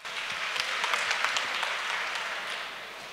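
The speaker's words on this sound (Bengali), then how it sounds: "ডন ভাইয়ের জন্য আগে একটা হাততালি দেন।" A round of applause from the audience at an IT career camp, a steady dense clapping that swells slightly and then tapers, with no talking over it.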